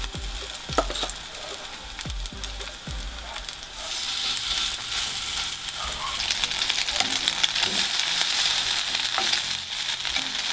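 A fish cutlet fries in sunflower oil in a nonstick pan, giving a steady, close sizzle with a few sharp utensil taps early on.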